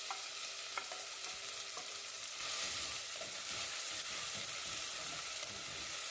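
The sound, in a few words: chopped onion frying in a pan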